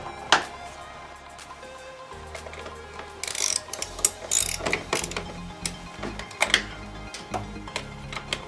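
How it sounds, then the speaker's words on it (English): Ratchet clicking as bolts are undone on an Audi 2.7 bi-turbo car, close bursts of quick metallic ticks with scrapes and clunks between strokes. "So I'm gonna have to undo the bolts"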